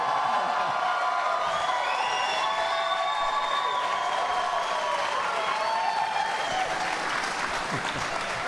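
A large crowd cheers and applauds at a CrossFit open workout, loud sustained clapping mixed with shouts and whoops, voices calling out over the roar throughout.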